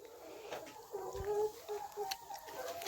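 Chickens cluck softly and intermittently in a quiet farmyard, faint and close.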